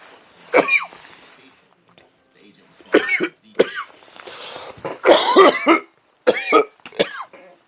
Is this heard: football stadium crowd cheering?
no